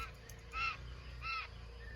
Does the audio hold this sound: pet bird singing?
yes